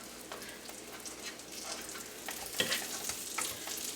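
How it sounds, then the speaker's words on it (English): Toutons, fried bread dough, sizzle softly in a pan in a Newfoundland home kitchen, a quiet steady crackle of frying with light pops, a slightly louder sputter and clatter near the end. "now we're going to let them fry on the opposite side"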